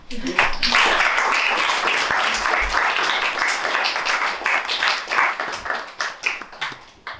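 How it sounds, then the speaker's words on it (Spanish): An audience claps after a talk on archives, loud and dense at first, then thinning into scattered, separate claps as it fades toward the end. "Un aplauso, ¿no?"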